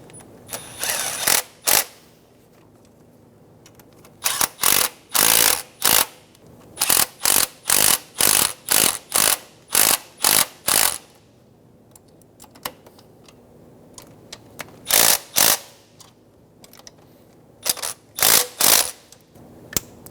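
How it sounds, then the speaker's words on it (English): A hand ratchet snugging the fuel rail bolts on a 2003-2007 Infiniti G35 engine, loud and close, in repeated bursts of rapid clicking separated by short pauses. "Snug all of the bolts down."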